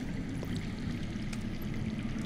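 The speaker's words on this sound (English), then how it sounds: "I hear water. From underground." Water flowing underground, a low continuous rushing and gurgling murmur heard from a distance, steady throughout with no voices.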